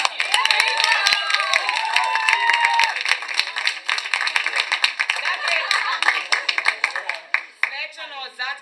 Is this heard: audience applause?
yes